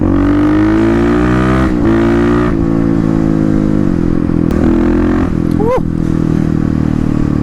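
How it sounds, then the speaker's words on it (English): A Kawasaki KLX351 motorcycle runs with its airbox lid off, a loud, close engine drone and intake roar rising and falling with throttle, with a brief scrape near the end. "That intake noise sounds pretty cool."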